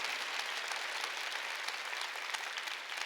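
Steady congregational applause at a Korean church Wednesday worship service, a fairly distant, even wash of many hands clapping continuously without talk.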